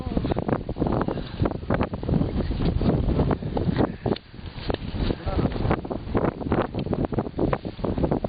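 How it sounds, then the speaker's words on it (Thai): Strong, cold wind at about 5,190 metres altitude at Lake Namtso, Tibet, buffets the microphone in rough, roaring gusts throughout, while a person talks over it. "ลมแรงมาก ครับลมแรงมาก"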